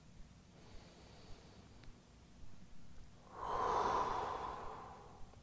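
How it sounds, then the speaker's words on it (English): A slow, deep breath during a beginner yoga pose, with a soft inhale, then a fuller, louder exhale swelling near the microphone in a quiet room. "Take a couple more breaths."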